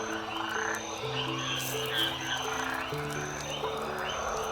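Many frogs croak together in the Amazon rainforest: overlapping steady calls and pulsing trills layered close and far, with insect-like chirps above, continuous throughout with no talking.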